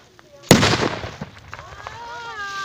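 A Dum Bum firecracker goes off in one loud, sharp bang that rings out and fades. Excited voices chatter over the tail of the blast outdoors.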